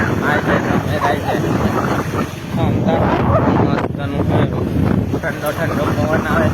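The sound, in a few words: cold wind blowing over farm fields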